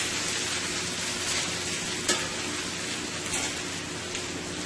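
A chicken, broccoli and cabbage stir-fry with garlic and ginger sizzles in a pan, a steady close hiss of frying with a faint clunk partway through.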